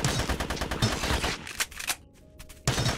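Rapid automatic gunfire from a gun in the sci-fi survival game GRAV, dense bursts of loud shots for about a second and a half, a brief lull with a faint tone, then another burst at the end.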